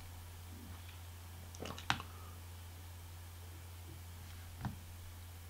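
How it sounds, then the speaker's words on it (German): A few sharp mouse clicks on a Mac while selecting Delete for the Macintosh HD partition, with a cluster of clicks near the middle and one more shortly after, faint against a steady low hum. "klickt auf Löschen"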